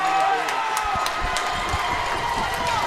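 Crowd at a junior lacrosse playoff game, a swelling murmur and cheer of spectators under steady arena noise, with footsteps and stick sounds and a voice talking over it.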